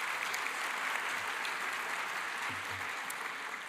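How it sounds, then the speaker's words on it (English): Audience applause for a high school jazz band at a Teacher of the Year ceremony, a steady wash of many hands clapping, even and sustained from a moderately distant crowd. "Let's give a round of applause for Yukon High School Jazz Band for providing the wonderful music this morning"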